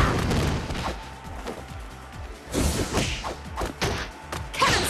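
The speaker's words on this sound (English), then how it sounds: "Cannon struck." Cannon hit in a fighting video game, a rapid string of heavy thuds and crashing impacts, with a loud burst toward the end.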